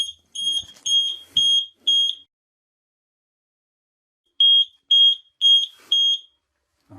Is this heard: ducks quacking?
no